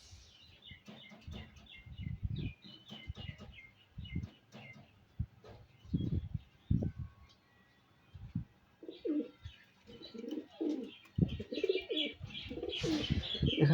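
Pakistani high flyer pigeons coo in soft, repeated low throaty phrases, with scattered chirps and tweets from other birds around them, close and moderately loud with no talking.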